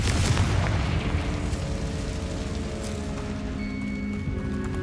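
In the video game Hogwarts Legacy, a Confringo spell goes off with a heavy booming burst that rolls into a long, decaying rumble with faint ringing tones, heard alone without speech.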